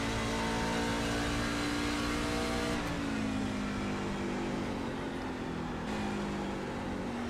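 A race truck engine in a Multi League Truck Series racing game at Gateway, a steady loud drone that revs and drops in pitch as it shifts gears twice.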